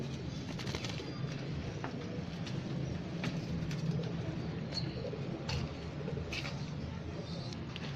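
Pearl pigeons coo faintly in a loft, soft low calls under a steady background hum with occasional voices nearby.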